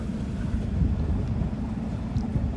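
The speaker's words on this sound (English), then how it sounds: "Little tour boat here in Rockport." A small tour boat passes off the beach at Rockport, Texas, a low engine drone that stays steady under heavy wind buffeting on the microphone, with no voices.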